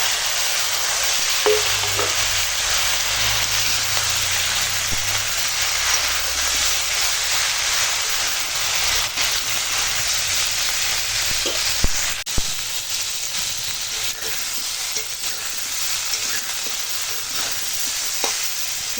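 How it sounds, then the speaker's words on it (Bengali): Bitter gourd, plantain, potato, eggplant and stalks fry in a pan with a steady loud sizzle, broken by occasional stirring clicks and scrapes. "এখন করলা হয়ে গেছে ভাজা আর এখানে আছে কলা আলু বেগুন ডাঁটা দিয়ে দিলাম"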